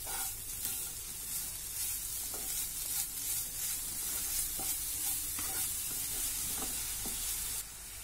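Jaggery being stirred and sautéed in a hot pan for a modak filling, with a steady loud sizzle and a regular scrape of the spoon every half second or so, close up and without talk.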